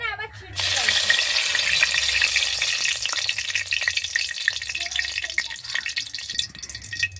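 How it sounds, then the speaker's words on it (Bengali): Bay leaves and dried red chillies tempering in hot oil in a kadai sizzle loudly and steadily, with scattered crackles and light rattling as the spices are stirred, close to the pan throughout. "এই দেখো তেজপাতা, শুকনো লঙ্কা ফোড়ন দিয়েছি।"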